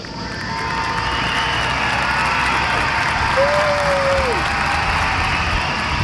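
A crowd at a sports venue in Athens applauds steadily on a hot day, a continuous wash of clapping that holds loud and even throughout, with a brief faint whistle-like tone partway through.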